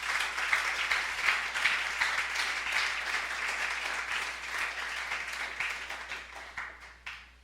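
A church congregation applauding during a sermon, sustained steady clapping from many hands that tapers off toward the end.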